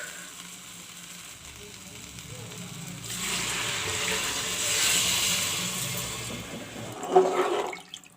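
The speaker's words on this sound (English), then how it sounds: "Now I will add some water" Water pours and splashes into a cooking pot of khichdi, building to a fuller rushing hiss midway, then a brief clatter near the end before it trails off.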